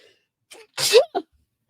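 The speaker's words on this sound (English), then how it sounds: "that sneeze that wants to come, but it's taking forever" A single close, sharp sneeze bursts out after a quick inhale, followed by a short exhale, in an otherwise quiet room.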